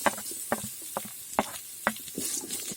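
Onions sizzling in a pan for a village-style chicken saaru, with garlic already frying: a steady hiss broken by regular scraping stirs from a spoon, close and moderately loud.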